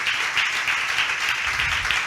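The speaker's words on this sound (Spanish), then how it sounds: "Si siente aplaudir, hágalo, hermanos." A church congregation applauding, a steady wash of clapping that holds for about two seconds with no pause, moderately loud and fairly close.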